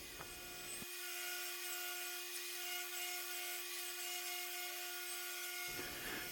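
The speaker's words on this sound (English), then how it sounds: "So I use a table saw to create that bevel in the rear piece." A table saw bevel-cutting a wooden rear subframe piece for a 1960s Shasta camper trailer, a steady high whine as the blade cuts for about five seconds, bracketed by the running motor, close and loud.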